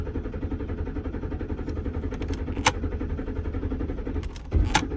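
A truck's engine cranks steadily and keeps turning over without catching, a close, continuous churning with a couple of brief clicks partway through and a small thump near the end.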